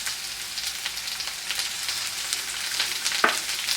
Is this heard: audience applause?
no